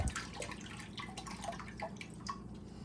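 Beef broth poured out of a container into a pot, a soft trickling and dripping of liquid with small splashes, quiet and close, no voices.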